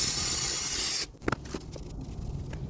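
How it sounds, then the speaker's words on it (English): Brake cleaner hisses in a steady spray over oily parts of a Ford Fiesta engine, loud and close for about a second before cutting off, followed by faint scrapes and handling noises. "I'll just use a little bit of brake spray and"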